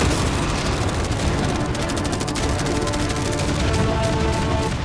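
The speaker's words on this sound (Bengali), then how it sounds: "এই সব একসাথে তোমার ইয়টের দিকে এখন ছোড়া হবে ফায়ার" Dense, continuous barrage of rapid machine-gun fire, cannon booms and fireworks aimed at a yacht, loud and unrelenting, with crackling bursts layered throughout.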